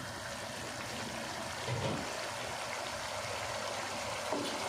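Water pours steadily into a pot of chicken pulao, the cooked chicken just browned further before the rice goes in: a continuous close trickling rush with a couple of brief louder splashes, no voices.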